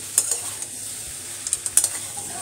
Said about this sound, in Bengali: তাও তরকারিটাকে কষিয়ে নিচ্ছি ভালোভাবে।